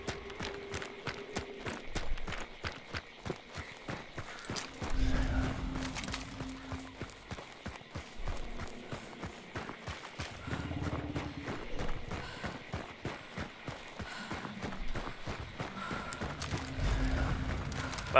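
Horse hooves clip-clop repeatedly in the game Hunt: Showdown, a steady rhythmic series of fairly close hoof strikes with occasional snorts and low tones in between.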